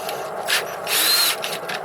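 A Ryobi power drill whines in short bursts, revving up twice with a high, thin pitch as a tiny bit spins, no talking.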